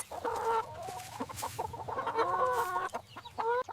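Several hens cluck and murmur close by in a busy, overlapping stream of short calls, with a steady low rumble underneath.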